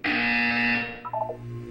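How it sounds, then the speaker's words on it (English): A loud, sustained electronic buzzer from the Portal 2 video game blares for nearly a second, then fades into a few short descending tones over a low background hum. "You will hear a buzzer."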